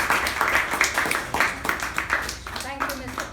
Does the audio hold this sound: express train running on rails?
no